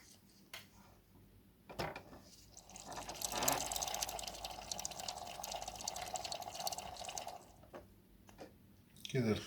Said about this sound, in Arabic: هفضل بقى أضخ مية في الخزان وأسحبها من الأنبوبة